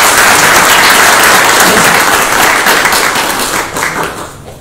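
Loud applause from an audience at a poetry day event, dense and sustained clapping that gradually thins and fades out near the end.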